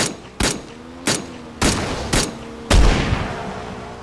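Six loud, separate gunshots in PUBG, spaced irregularly about half a second apart, each with a sharp crack and short ringing tail, the last one heaviest.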